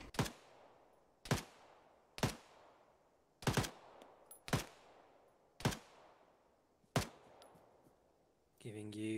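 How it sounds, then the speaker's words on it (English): Sharp, loud gunshots from the video game ArmA 3 crack out at a measured, deliberate pace, roughly one per second, each with a short echoing tail, before a burst of steady machine-like noise at the end. "Just keep up a deliberate rate of fire on the crest"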